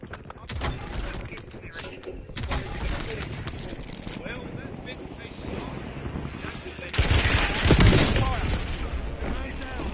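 Gunfire from a Call of Duty style shooter game, a mix of rapid bursts and single shots with a heavier flurry toward the end, heard under a player's voice talking.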